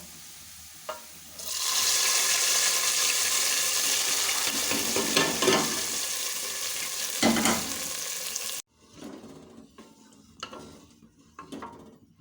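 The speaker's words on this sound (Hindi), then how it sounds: "निहारी को तड़का लगा देंगे।" Hot tempering oil with red chili powder sizzles loudly in a pan over beef nihari. It bursts in abruptly and hisses steadily for several seconds, then cuts off. Quieter clinks and stirring scrapes from the pot follow.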